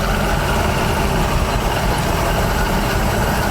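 A 1979 Chevy G20 custom van engine runs loud and steady at close range, a dense low rumble with rough texture as it spits back through the carburetor under half throttle, with no voices over it.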